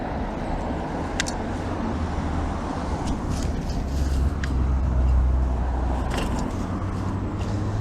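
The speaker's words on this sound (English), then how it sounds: "that line of traffic is going to take ages to roll through now" A line of road traffic slowly passing roadworks on a quiet Sunday, a continuous low rumble of cars and larger vehicles rolling by at moderate distance, with brief higher hisses of brakes.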